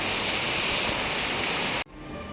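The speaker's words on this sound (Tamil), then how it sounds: "பயங்கர மழை." Heavy rain pours down as a dense, loud, steady roar that cuts off abruptly near the end, leaving quieter background noise.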